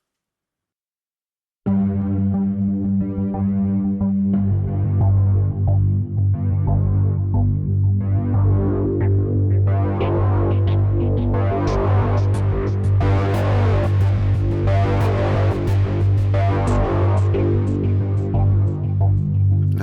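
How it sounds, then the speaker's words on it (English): A dark, heavily distorted synth texture from the Dark Horizon library by Best Service and Sonuscore, starting abruptly after a short silence and then grinding on as a loud, steady, throbbing drone with gritty, buzzing upper layers that swell over time. "Now that's some dirty distortion."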